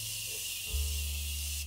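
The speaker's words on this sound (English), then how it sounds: "Let me spray this set and spray." Morphe setting spray misted from a pump bottle in one short, steady hiss over a low background hum, with no talking.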